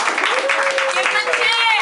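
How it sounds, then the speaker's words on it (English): Small open mic audience clapping and cheering as a performer is called to the stage, a brief patter of applause with a few whoops, a voice speaking over it. "From the back, your man, give a cheer!"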